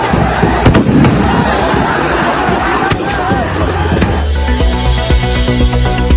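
Firecrackers burst in quick crackling volleys before a football match in Malappuram, Kerala, loud and close, over a dense, shouting crowd. The explosions fade after a few seconds into a steadier background din.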